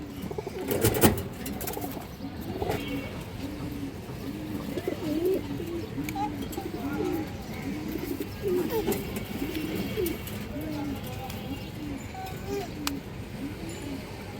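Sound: Indian high flyer Kaldom pigeons cooing

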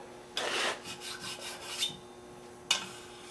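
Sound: small diamond file filing metal

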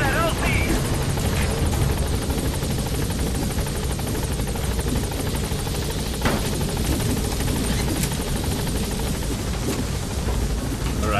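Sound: helicopter arriving in Metal Gear Solid 5 video game

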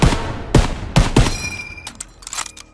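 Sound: gunshots in video game Call of Duty WW2

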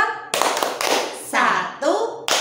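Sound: rhythmic hand clapping

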